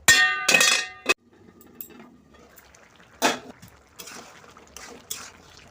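A lid is set on a cooking pot of Malabar spinach with hilsa fish heads, making a few sharp metallic clinks and clanks, one cluster near the start and a single clank later, amid quiet kitchen background.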